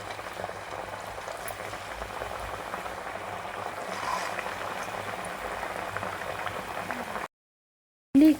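Jaggery appalu fry in hot oil with a dense, even bubbling sizzle, close and steady for about seven seconds before cutting to silence, then a short sound at the very end.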